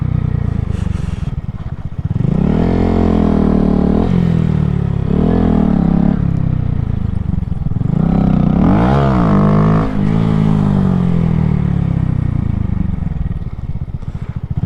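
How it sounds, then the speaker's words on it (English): A motorcycle's back tire spins without traction on a lot: a loud, steady engine drones throughout, its pitch repeatedly sweeping up and falling back as the rider revs. "the back tire is just spinning. Can't get traction."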